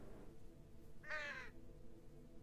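A raven in the video game Cats and the Other Lives gives a single harsh caw, clear and fairly close, rising out of quiet background ambience.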